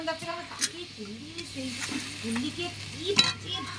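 Fried rupchanda (pomfret) fish pours into a sizzling onion, ginger and garlic masala for a fish curry, a steady frying hiss with soft stirring scrapes and one sharp clatter near the end, under a faint background voice.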